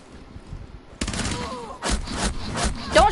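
Gunfire from the Rainbow Six video game: a quiet start, then sudden loud bursts of automatic fire that keep going, with brief voices in the background.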